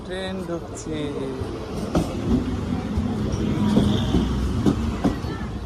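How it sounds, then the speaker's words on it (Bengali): An arriving train rumbles and clatters along the tracks at a station with a steady mechanical drone, people talking nearby over the noise. "হ্যাঁ ট্রেন আসছে মা এই যে"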